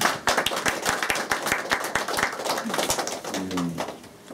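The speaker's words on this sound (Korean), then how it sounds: "특별히 박수를 좀." Audience clapping at a Won Buddhist meeting, brisk dense applause with a few sharp individual claps standing out, fading as a voice begins speaking near the end.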